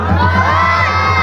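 Audience at a live Mamanda theatre performance cheering and shouting loudly, a dense close roar of voices with children's shouts mixed in, sustained throughout.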